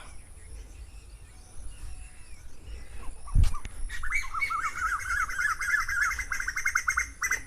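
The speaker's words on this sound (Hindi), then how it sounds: "ये आपको पक्षियों की आवाज़, इतनी मधुर आवाज़ आपको यहीं सुनने को मिलेगी" Birds sing in a mature organic garden of planted trees, bright chirping phrases rising after a single loud thump, with soft ambient background and nearby insect-like trills.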